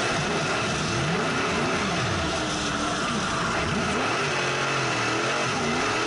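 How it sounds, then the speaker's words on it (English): A modified race car's engine keeps running and revving after spinning off into the infield at Redwood Acres Raceway, loud and continuous with other cars roaring nearby, no talk. "Spins off into the infield. Keeps the car going."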